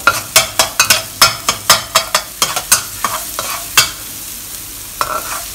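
Aromatics stir-fried in a pan over moderate heat for spicy mapo minced meat glass noodles: a steady run of sharp spatula scrapes and stirring clatters against the pan, close and loud, over a soft sizzle, with no talking.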